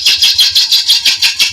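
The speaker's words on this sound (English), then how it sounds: "as the bottom here is a little bit wobbly, I'm just letting the gouge bounce" A woodturning gouge bounces rhythmically against a wobbly piece spinning on the lathe, giving a rapid, even train of loud scraping taps, about eight in under two seconds, close and alone.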